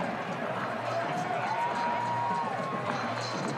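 Rugby stadium crowd during a close match, on their feet with a broad sustained roar of cheering, a commentator talking over it.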